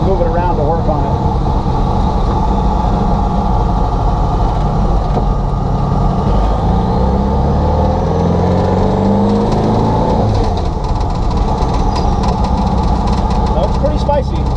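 A turbocharged 1967 VW Bug engine driving, a loud steady air-cooled drone with rising and falling revs throughout, close up and continuous.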